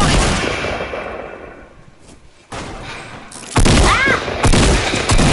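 Gunfire rattles in a PS4 game as dense, loud bursts that fade, pause briefly, then return harder, with a short shout heard over the shooting.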